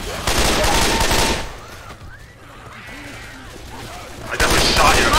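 Gunfire in the Left 4 Dead video game, loud rapid bursts at the start and end with a quieter gap between, mixed with game sounds and voices.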